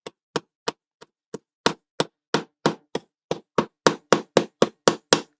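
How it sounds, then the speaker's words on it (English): A hammer strikes oiled metal pins into holes while assembling a Robocop model kit, a series of sharp, ringing knocks, slow at first, then faster and louder, with brief pauses between blows. "I'm going to bang them in with my hammer."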